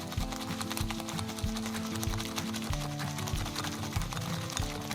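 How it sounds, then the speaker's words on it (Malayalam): Dalgona coffee mixture being beaten until soft and frothy, a steady rapid mechanical whirring with rhythmic rattling pulses that continue loudly throughout without talk. "ഇനി നമുക്ക് ഇതൊന്ന് ബീറ്റ് ചെയ്തെടുക്കാം."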